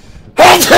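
A single sharp sneeze bursts out close to the mic after near silence, loud and abrupt, with a short spoken word following.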